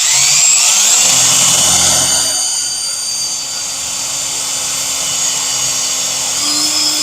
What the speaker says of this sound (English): we still need to drill a hole for the other piece